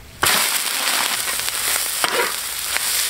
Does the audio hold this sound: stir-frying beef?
yes